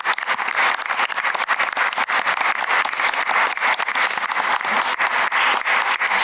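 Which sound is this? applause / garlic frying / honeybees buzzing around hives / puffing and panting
applause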